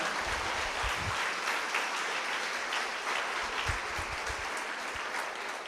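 Audience applause rises during a talk: a steady wash of many hands clapping at moderate, slightly distant volume with occasional low thumps, continuing evenly for several seconds.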